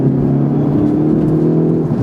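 A 2019 Hyundai Veloster N engine idling at raised revs with the clutch pushed in, a steady loud low drone with a slight rise and fall, close up and without voices.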